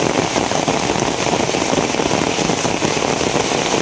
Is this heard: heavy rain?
yes